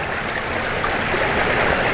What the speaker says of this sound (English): You can see the water just running off of it.